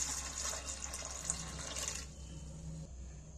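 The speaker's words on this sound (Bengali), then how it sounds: "এবার আমি পরিমাণ মতো জল দিয়ে দিচ্ছি।" Water poured from a jug into a pot of chickpea curry with spices and cardamom, a steady close splashing stream for about two seconds that then thins to a quieter trickle.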